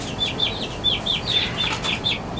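Baby chicks in a coop give a quick run of high, evenly spaced peeps and soft clucks, heard close by and on their own.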